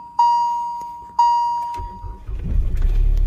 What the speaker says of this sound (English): So let's do a cold start and check.